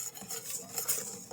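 A utensil stirs sugar cookie batter in a bowl, giving a close, rapid scraping and clinking rhythm with soft bumps against the bowl's sides over a brief stretch.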